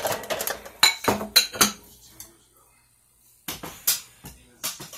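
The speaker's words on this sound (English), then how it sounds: "I'm putting the dishes away, so kind of a little noisy" Dishes being put away at home: bursts of clattering plates, pots and cutlery clink close by in uneven clusters, with a quiet pause in the middle before more rattling resumes.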